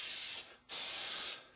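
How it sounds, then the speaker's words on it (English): Weathering wash sprayed from an airbrush onto a scale model in two close, steady hissing bursts separated by a brief pause, with no talking. "spray the weathering wash straight over"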